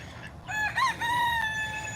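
A rooster lets out a single loud, close cock-a-doodle-doo, harmonic and rising then trailing off, with quiet farmyard background among a neighbor's chickens and ducks.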